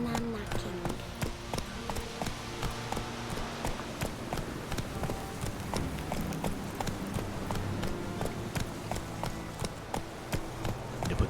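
Horse hooves gallop in The Witcher III game, a rapid, steady clip-clop rhythm running throughout at moderate volume, with a voice talking over it.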